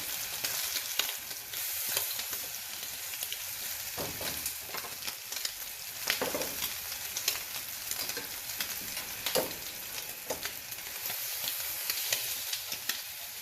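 In a restaurant kitchen, crab cakes fry in oil in a pan with a steady, bright sizzle. Occasional clanks and scrapes of the pan and utensils sound over it.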